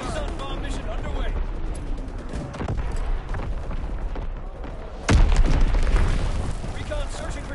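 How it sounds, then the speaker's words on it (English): Division artillery fire in a WWII video game: a continuous wash of rumbling booms and distant blasts, with one heavier impact swelling about two-thirds of the way through, and a voice speaking faintly beneath the barrage. "Firing division artillery."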